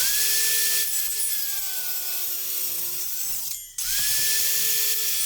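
A power saw cuts 50 mm deep into a hardwood step post. A loud, whining grind runs in two long passes separated by a short pause.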